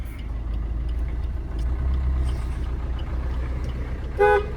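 One short car horn toot from a 2016 Maruti Ertiga diesel sounds near the end, over the steady low hum of its idling engine.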